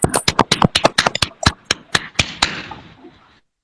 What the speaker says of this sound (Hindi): जोरदार तालियों की गूंज हो जाए